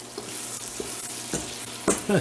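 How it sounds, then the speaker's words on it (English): Garlic shrimp sizzle in a hot pan as they are stirred and turned, a steady frying hiss broken by a few scraping strokes close by, with no voices. "Give this a turn. That'll finish cooking off the shrimp."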